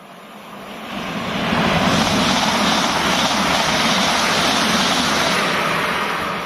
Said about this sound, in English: Just past was the 13:28 Abbey Wood to Reading service.